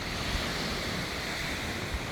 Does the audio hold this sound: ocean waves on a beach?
yes